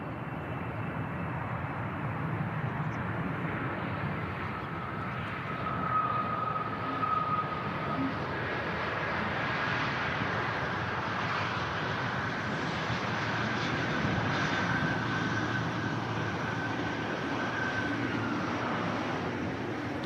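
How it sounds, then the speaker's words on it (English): Qatar airliner arriving from Doha and touching down at Manchester Airport, a distant, steady broadband jet rumble with faint tonal whine that persists throughout without speech. "Just touching down now and down from Doha."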